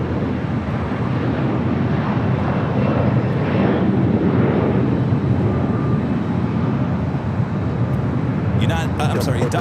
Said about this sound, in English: Delta Flight 413 heading to Minneapolis in A321 in Neo